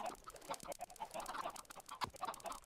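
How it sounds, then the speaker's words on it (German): Chickens cluck repeatedly in the Minecraft video game, with a run of short, close, fairly quiet calls and no talk over them. "Wie viele Hühner sind denn da jetzt?"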